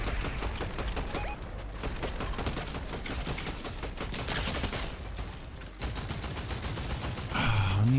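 Sustained automatic gunfire in Fortnite Zero Build squads, dense rapid shots over several seconds with brief pauses, loud and close, ending in a different tonal game sound.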